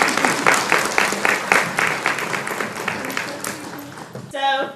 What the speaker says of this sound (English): Please give a round of applause to Amy Coppleton.